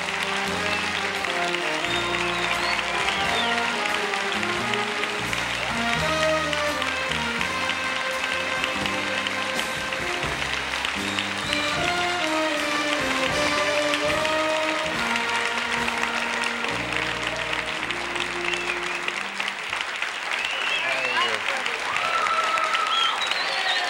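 A television talk show studio audience applauds to welcome a guest, with loud, steady clapping sustained throughout, interspersed with scattered cheers under a band playing.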